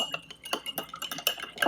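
A spoon stirs dry active bread yeast into a honey brew for a 2-gallon mead batch, giving quick, irregular clinks and scrapes against the vessel, close and clear with no talk.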